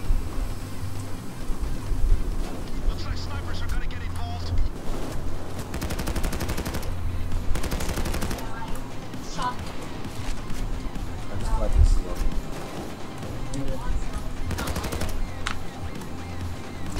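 Gunfire rattles repeatedly in the Payday 2 video game, bursts of automatic shots and scattered single cracks over a busy game soundscape, while a player talks over the action.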